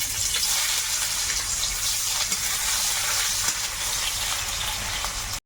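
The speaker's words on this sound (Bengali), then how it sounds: "আর একটু হলুদ দিয়ে বেগুনটা ভেজে" Eggplant frying in hot oil with turmeric and salt, a steady dense sizzle that stays loud and even from start to finish, with no voices.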